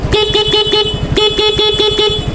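A stock Yamaha Fazzio scooter horn honks loudly in a rapid, rhythmic series of short beeps, a brief pause, then another quick burst.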